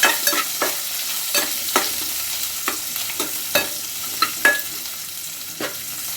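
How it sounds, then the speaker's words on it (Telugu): Onion pieces and peanuts frying and being stirred in a pan, a continuous sizzle broken by regular scraping strokes, close and fairly loud. "ఉల్లిగడ్డ ముక్కలు అయితే గోలినాయండి. ఇప్పుడైతే పల్లీలు వేసుకున్నా."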